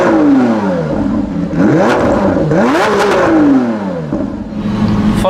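A Lamborghini Aventador SVJ V12 in sport mode revs hard several times, the engine pitch sweeping up and falling back between blips, with crackling exhaust pops as it drops off. Loud and close, with no talking.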